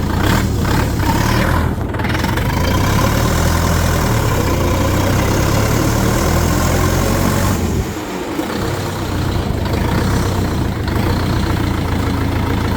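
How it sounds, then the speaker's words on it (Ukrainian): Four-cylinder engine of a Terra Force 455L four-wheel-drive mini tractor running steadily with a deep, continuous low rumble, loud and close, with a brief dip in level partway through. "правильно працює двигун 4 циліндри"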